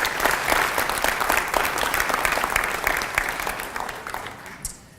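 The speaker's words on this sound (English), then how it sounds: "Let's give a round of applause to Ashland." A full round of applause from an audience at a STEM educator awards ceremony, a thick, continuous wash of clapping that gradually thins and fades out.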